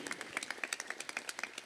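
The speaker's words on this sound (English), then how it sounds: "A round of applause for Namrata's efforts." Audience applause at the Mijwan Fashion Show 2022, rendered as rapid, fairly faint claps in a steady crackling rhythm throughout.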